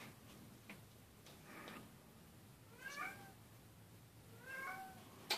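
A cat meows twice, short rising calls a second or so apart, fairly quiet in a still room with faint ticking in the background.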